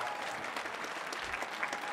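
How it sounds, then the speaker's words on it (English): Audience applause at a youth marimba ensemble concert on a performing arts stage, a dense, steady wash of many hands clapping together for the full two seconds with no talking. "give them one more round of applause"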